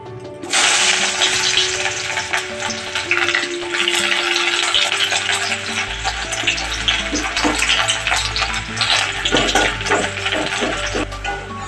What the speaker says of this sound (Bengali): পেঁয়াজটা ভাজা ভাজা হয়ে যাচ্ছে এরকম ব্রাউন কালারে।